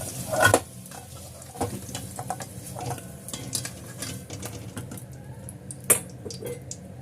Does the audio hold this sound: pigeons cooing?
no